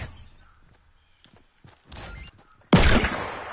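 Gunfire in the Fortnite Battle Royale video game, a loud burst of shots after a quieter patch of rustling and movement, with a louder blast near the end.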